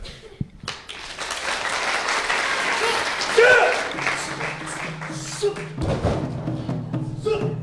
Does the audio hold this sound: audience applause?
yes